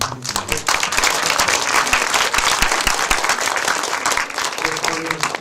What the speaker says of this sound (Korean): 다시 한번 뜨거운 박수 한번 부탁드리도록 하겠습니다